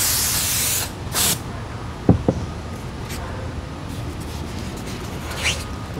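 Compressed air sprayed to blow sanding dust off a model RC airliner wing, a loud close hiss in short bursts at the start, then a quieter steady background with a few clicks.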